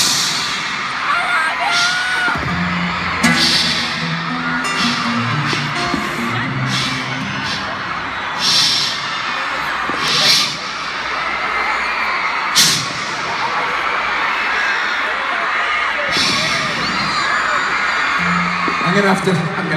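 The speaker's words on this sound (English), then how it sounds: "I'm gonna have to ask you to stop screaming." A concert crowd at a show in Santa Clara screams loudly and without a break, with whoops and cheers rising in waves and a voice speaking over the noise.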